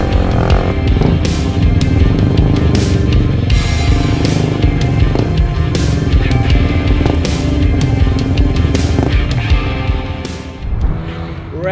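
A motorcycle doing a wheelie around the Red Bull Ring race circuit roars loud and close for the whole stretch, the engine held high with sharp bursts and wind noise, easing off near the end.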